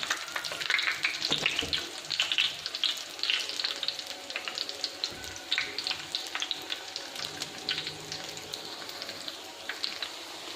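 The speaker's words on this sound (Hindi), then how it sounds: "तो अब हम इसको फ्राई करते हैं। तो यहाँ पे हमने एक तवा लिया, उसमें उस पर ऑयल डाल दिया और इस पर कबाब डालेंगे।" Maggi noodle kababs spit and crackle in hot oil on a tawa, a steady close sizzle with faint scattered pops running throughout, no voices over it.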